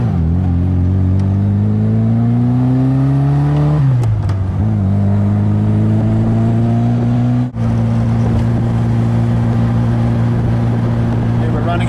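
A 1959 Fiat Abarth 750S Allemano Spyder engine revs under way, its buzzy note climbing steadily, dipping at a gear change, then holding an even, smooth drone at cruising speed, loud and close.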